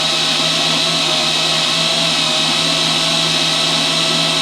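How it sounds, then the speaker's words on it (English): A drill bores slowly into a metal fuel tank, giving a steady, continuous whirring grind that holds at an even level for the whole stretch, close and fairly loud with no talking. "go ahead and drill nice and slow and easy"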